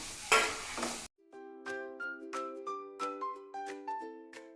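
Onions and green chillies, already wilted, fry in a pan for a clam-meat fry, giving a loud, dense sizzle for about a second before a bright chiming melody takes over.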